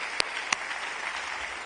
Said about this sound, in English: Let's have another round of applause, please